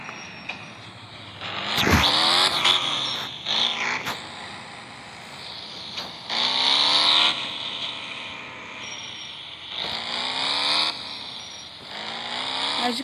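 A BMW i8 in the mobile driving game Driving School 2017 revs and accelerates in repeated surges, with engine pitch climbing through gear changes. Loud, close bursts alternate with quieter idling stretches.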